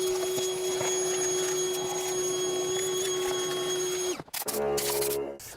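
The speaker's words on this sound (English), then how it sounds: "We'll vacuum it out really well." A shop vacuum cleans debris from around the valve area of a 2004-2010 Ford F150 5.4 engine with the ignition coils removed, a steady loud whine with tonal hum that runs continuously, then cuts out abruptly near the end amid clatter.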